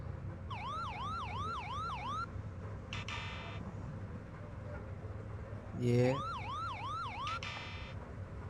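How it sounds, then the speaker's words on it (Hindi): An ambulance siren wails in repeating rising-falling sweeps, in two bursts separated by a brief pause and a sharp whooshing burst. "फिर अभी एम्बुलेंस की वॉइस लेते हैं,"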